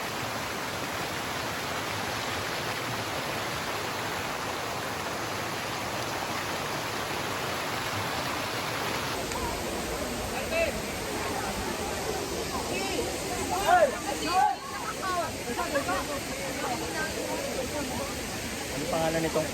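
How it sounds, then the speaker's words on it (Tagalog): Cambugahay Falls on Siquijor Island sends up a constant, broad roar of falling water, and voices talk over it partway through. "Ano pangalan nitong falls? Nakalimutan ko. Cambugahay Falls."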